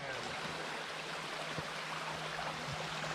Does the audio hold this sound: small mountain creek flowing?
yes